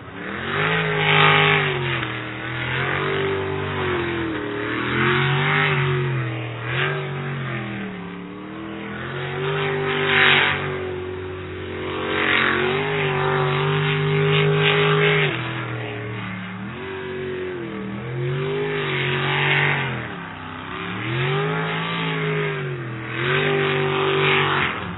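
A sprint racing boat engine at a pro series race, its throttle repeatedly feathered so the engine note rises and falls in steady waves, loud and continuous throughout with no talk.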